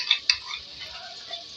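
Garlic sizzles with chicken in a pot for handi aloo chicken, a soft, close frying hiss with a couple of quick clinks from a stirring spoon.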